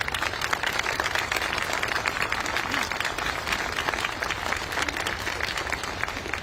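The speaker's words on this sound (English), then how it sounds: "Ladies and gentlemen, please, a round of applause for these young cadets." A crowd at an outdoor Veterans Day ceremony applauds a group of young cadets with dense, sustained clapping that stays loud and unbroken from start to finish.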